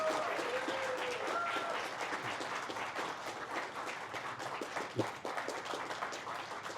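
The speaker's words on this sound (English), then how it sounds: "One last round of applause for the artists of Star Wars Limited." A dense, steady round of applause from an audience at a Star Wars Unlimited Galactic Championship artists panel, sustained at even loudness throughout with a faint voice underneath.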